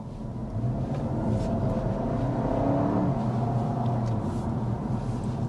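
A 2025 Honda Civic Hybrid pulls away from a standstill with a low, steady engine hum and rising motor whir under road and cabin noise, heard from inside the car without talk.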